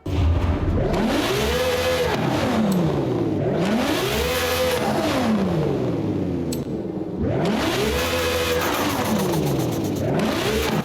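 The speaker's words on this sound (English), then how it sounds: "now we come to the fun part, the engine sound" A Lamborghini Sesto Elemento in Forza Horizon 5 revs hard three times, each time rising in pitch and falling back in a sweeping howl, loud and close with no talk over it.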